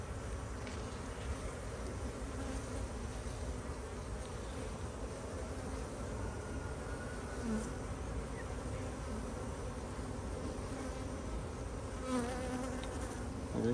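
Honey bees buzzing on hive frames in an apiary, a dense, steady swarm drone filling the air up close and continuously, with no voices.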